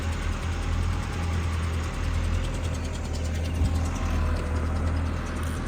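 A 385 tractor stands with its engine running, putting out a constant low rumbling drone at close range that stays steady without revving up or down, and nobody speaks.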